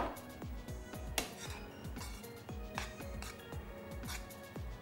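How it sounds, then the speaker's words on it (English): A utensil stirring potato and cheese burrito filling in a bowl, producing a steady run of close clinks and scrapes against the dish. "Just want to mix it really well"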